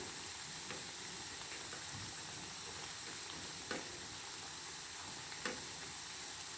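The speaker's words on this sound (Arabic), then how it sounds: "انا مولفة نقلي في المقلة" Dough crust frying in oil in a pan, a steady soft sizzle that runs throughout at low level, with a few faint clicks and taps.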